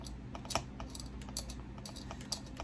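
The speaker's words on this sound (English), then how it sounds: "just go in there and just trim it a little bit with the X-Acto knife" Small clicking cuts as an X-Acto hobby knife trims a hole in a plastic Snoopy surfing model kit, a few quiet, irregular ticks close by over a low steady background hum.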